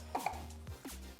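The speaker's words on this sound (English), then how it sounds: "I'm just mixing that up. Mixing that in there." Spoon scraping and thudding in a bowl while mixing chopped mushroom, cream cheese and Parmesan for stuffed mushrooms, a few close irregular knocks and scrapes over a quiet background with no talking.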